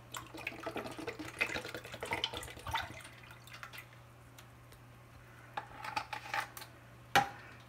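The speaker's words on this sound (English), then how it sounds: "I'm going to add our dye, entire bottle." A whole bottle of dye pours into a vessel of water mixed with vinegar and salt for dyeing UCP camouflage clothing, heard as soft, quiet trickling and splashing in two short stretches, then a sharp knock near the end.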